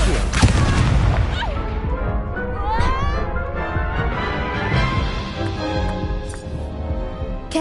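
Confringo explosion spell cast in a Harry Potter game, a loud booming blast up front that rolls into a crackling, rumbling tail of debris and effects, with a voice speaking over it.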